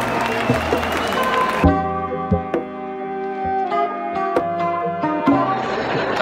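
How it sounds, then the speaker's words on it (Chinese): Crowd at a Yankee Stadium baseball game, a broad roar of cheering with scattered claps and shouts, with a musical tone from the stadium audio standing out through the latter part. "全场都在欢呼"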